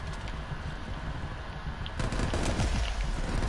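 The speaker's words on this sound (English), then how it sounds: "Hey, stop shooting at me." Rapid gunfire from the Call of Duty Cold War campaign crackles in dense bursts, growing heavier and closer in the second half, with no talk over it.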